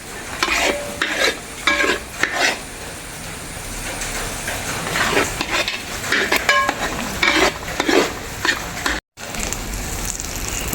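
Jackfruit varattiyathu being stirred in a pan with white sesame added, a spoon scraping and clacking against the metal in repeated bursts over a soft sizzle, close and fairly loud.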